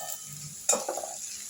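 Pumpkin greens curry frying in a pan with panch phoron, thin-cut potato, garlic and green chilli: a steady close sizzle with a burst of stirring scrapes partway through, no talk.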